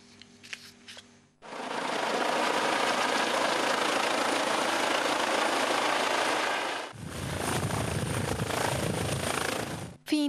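An SMURD medical rescue helicopter drones loudly and steadily for several seconds, dips briefly, then continues with a rougher, rushing rotor roar before cutting off abruptly.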